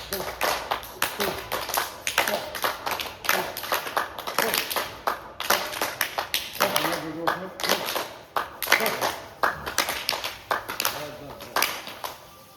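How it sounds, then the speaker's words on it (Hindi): A group claps hands raised overhead in a yoga session, a steady run of sharp claps with talk running over them throughout. "दोनों हाथ ऊपर में बजाओ 10 ताली।"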